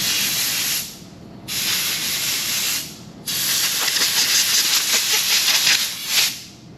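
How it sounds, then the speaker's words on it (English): WD-40 spray followed by an air hose blowing clean a tap removed from a part: three loud, steady hissing blasts, the last longer and rougher with sputtering, up close with no talk. "Squirt some WD-40 on it and hit it with the air hose"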